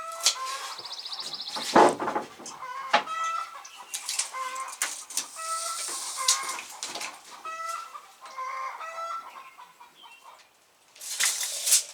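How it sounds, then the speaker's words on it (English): Hens cluck and squawk in a busy coop, with bursts of wing flapping, scattered close calls and rustling, and a louder flurry near the end. "the chickens are busy laying"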